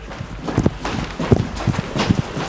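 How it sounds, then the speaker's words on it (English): Footsteps in a haunted historic speakeasy: a few faint, uneven thuds and knocks spaced across a couple of seconds, muffled and somewhat distant, with no voices. "they start hearing noises and what sounds like footsteps"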